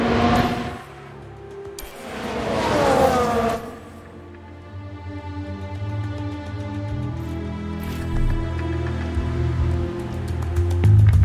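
Steady rain hisses and patters in F1 Manager 2022, mixed with droning race-car engine tones that swell toward the end, continuous throughout with no talking.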